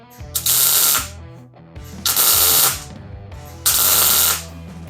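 Welding on thick metal of a chopped 1950 Ford Shoebox body: three loud bursts of bright, crackling hiss, each about a second long, close by, with quieter sputtering in the pauses.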